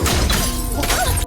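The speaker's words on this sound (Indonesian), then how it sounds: "Dan ketika Amui sedang asik dengan Aman, tiba-tiba lampu di taman itu pecah." A garden lamp shatters in a horror film scene, a dense, loud crash of breaking glass that fills the moment before cutting off abruptly.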